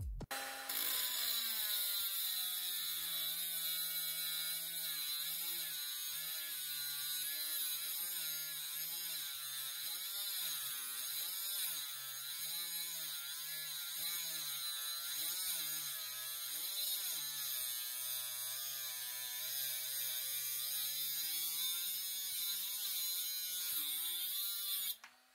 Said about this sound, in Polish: Tak przecięła ta szlifierka na 2 amperogodzinnowej baterii.